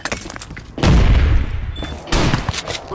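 Heavy gunshots from a sniper rifle in the shooter game Ballistic, two loud booming blasts roughly a second apart, each rolling out into a long echoing tail.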